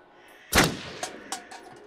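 A single loud gunshot cracks out at a shooting range in the Until Dawn video game, followed by a few quicker, fainter echoing reports trailing off.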